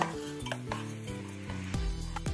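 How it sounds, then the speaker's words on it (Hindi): Basmati rice is stirred together with prawn masala in a pot for prawn pulav, giving repeated scraping and soft clinking strokes over a faint sizzle, with no one speaking. "तांदूळ बरे आता भितर मिक्स करून घेऊया"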